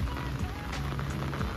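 Steady rain falling at night beside a hotel pool in Bolinao, Pangasinan, a dense continuous hiss and patter that fills the whole stretch without any voices.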